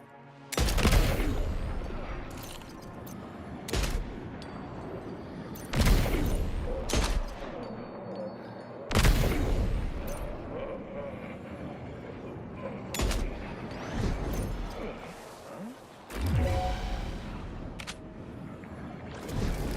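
Gunfire in the video game Death Stranding 2: a handful of sharp, loud shots spaced irregularly over the span, each ringing out briefly over a busy game soundscape, with no talk.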